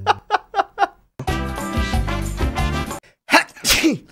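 A man sneezes in a quick series of short bursts, then breaks into loud, sustained laughter or a shout, followed by more sneeze-like bursts and a squeal, close and loud.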